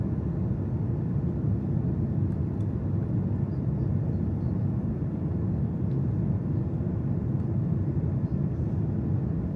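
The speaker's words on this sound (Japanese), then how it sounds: "うとうとしているともう着陸が近づいていました。" Steady loud low cabin rumble of an airliner approaching landing in Uzbekistan, a constant engine and airflow drone heard from inside the plane, unchanging throughout with no talk.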